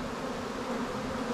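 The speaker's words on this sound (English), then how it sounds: "so many bees." Honey bees at a beehive in Alaska give off a steady, close, continuous buzz with no talking over it.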